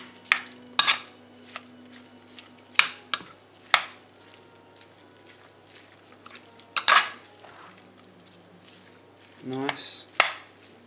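Granny Smith apple filling for a Christmas crumble tart being mixed in a bowl, with scattered clinks of a utensil against the dish, sparse scraping strokes and quiet gaps between them.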